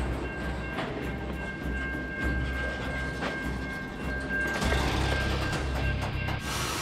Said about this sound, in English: Roll the train through the crossing and back again